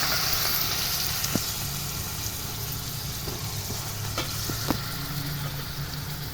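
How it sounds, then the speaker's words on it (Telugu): Onion paste sizzles and fries steadily in a pan for goat curry, a close, continuous crackling hiss with a few soft clicks of stirring and no voices. "ఉల్లిపాయ పేస్టు బాగా వేగిందండి"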